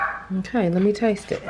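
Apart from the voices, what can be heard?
dog barking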